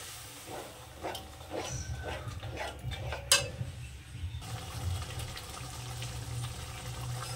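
Water goes into a pan of ground spice paste for a paneer gravy and meets hot oil, giving a hissing sizzle with splashy bursts that settles into a steady simmering hiss, close up with no voices.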